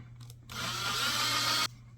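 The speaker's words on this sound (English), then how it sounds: "Drill in all the way through." Power drill boring through the cylinder hull of a 1:72 scale German Type 212 model submarine, a loud steady whine lasting just over a second after a brief quiet lead-in, close up.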